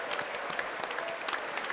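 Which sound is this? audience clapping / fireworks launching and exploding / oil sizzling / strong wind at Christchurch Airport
audience clapping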